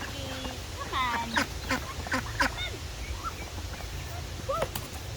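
Ducks quack in a series of loud, nasal calls on a farm, several birds close by with irregular bursts over a steady low background, some quacks overlapping.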